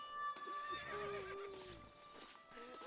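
A horse neighs in the Western video game Red Dead Redemption, a short whinny close by with hoof clip-clops around it and a voice speaking nearby.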